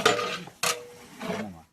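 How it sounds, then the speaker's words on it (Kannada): A spoon scrapes and knocks against a pot while curry is stirred, three short separate strokes close by with no voices. "ಹಾಗೆ ಮಿಕ್ಸ್ ಮಾಡ್ತಾ ಇದ್ದೀವಿ ನೋಡಿ"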